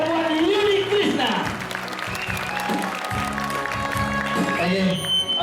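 An audience at a live concert in Bona, Gianyar claps and cheers in a steady, continuous wash of applause while a voice talks over it and music plays underneath.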